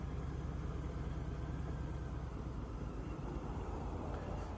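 A 2018 Harley-Davidson Street Bob motorcycle engine powers up from near a halt, a low, steady throbbing rumble heard close and fairly faint under wind noise, with no talking.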